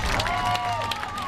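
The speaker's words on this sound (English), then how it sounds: "Let's all give a big applause" Crowd at a high school football game, Anahuac Panthers vs New Waverly Bulldogs, applauding the school bands and drill teams, a short burst of clapping and cheering in an open stadium.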